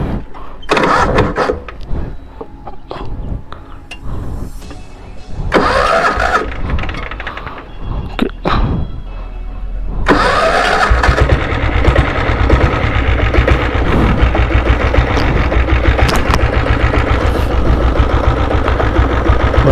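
A diesel Royal Enfield Bullet motorcycle engine starts up loud and close after some clattering handling noises, then settles into a steady, throbbing idle that continues to the end.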